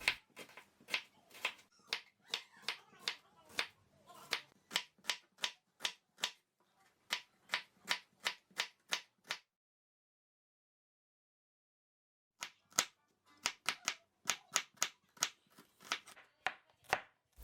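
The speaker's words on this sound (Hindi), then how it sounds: "जिस तरह आप देख रहे हैं वीडियो में, बस इस तरह हमने स्लाइस कर लेना है प्याज को" Knife blade chopping through onions on a board for crispy onion pakoras, a quick steady run of sharp close taps, a pause of about three seconds, then another burst of slicing.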